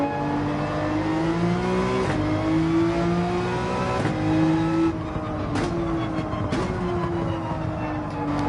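A Porsche 911 races in Gran Turismo 7, its engine holding a loud, continuous high-revving whine that climbs and drops through gear shifts every couple of seconds, heard close and alone.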